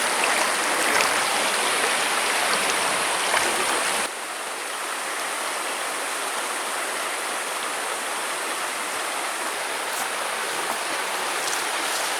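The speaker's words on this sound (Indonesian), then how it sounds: "Ini udah di sungai ini, alirannya dari air terjun Tretes." A river stream fed by the Tretes waterfall rushes in a dense, steady wash of flowing water, close and continuous, briefly louder at the start before settling into an unbroken roar.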